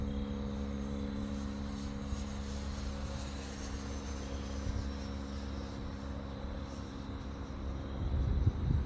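A Freewing 70mm F-16 V3 RC electric ducted fan jet flies overhead with a steady, fairly loud whooshing whine and hum that holds throughout and swells slightly near the end.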